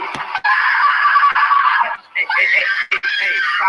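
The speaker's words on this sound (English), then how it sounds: "Hey, stop screaming." A person screams loudly and continuously for several seconds, with brief breaks between bursts and a final shrill outcry, occurring during a discussion of a scene from the Little Fetus episode.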